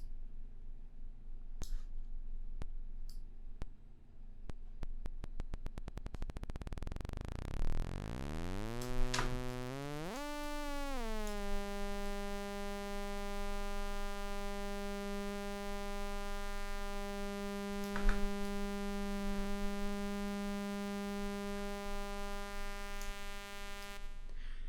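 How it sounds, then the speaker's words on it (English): A pulsar synthesis tone generated by a Max/MSP patch starts as a low buzzing pulse train, then rises and sweeps into a steady, bright harmonic drone that holds at moderate loudness over a faint hum. "this means now we can actually hear pulsar synthesis"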